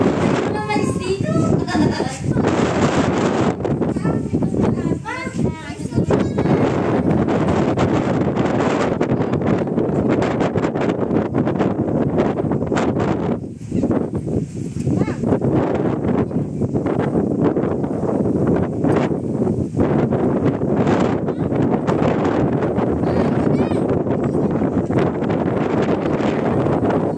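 Wind blowing steadily and loudly across the microphone at a mountain roadside on Marilaque, constant buffeting roar for the whole stretch, with people chatting intermittently under it.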